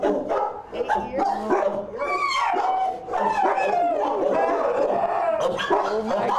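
Dogs bark and yip loudly at an animal shelter, with sharp repeated barks and some whimpering close by, while people talk over the noise.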